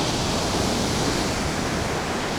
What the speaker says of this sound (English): The sound of the waves is soothing.